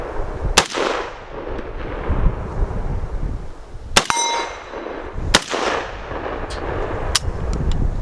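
AK rifle fired at a range, several loud single shots a second or more apart, each with a sharp crack and ringing metallic clang that decays away.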